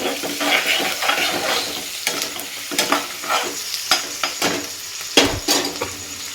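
Salted onions frying in a pan for egg bhurji crackle and sizzle steadily while a spoon scrapes and taps the pan in repeated close strokes.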